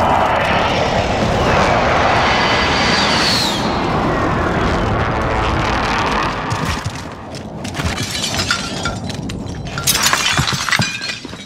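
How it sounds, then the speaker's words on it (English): Aircraft engines roar loudly overhead during a Call of Duty Warzone airstrike, a sustained sweeping jet rush with crashing, shattering impacts toward the end. "Be advised, friendly precision airstrike inbound."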